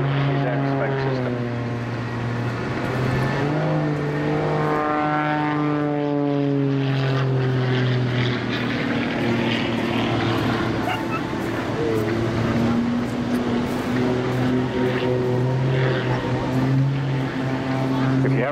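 Propeller aerobatic aircraft at a seaside airshow on the English Riviera, its engine drone loud and continuous with pitch sweeping up and down through manoeuvres, heard alone for the whole stretch.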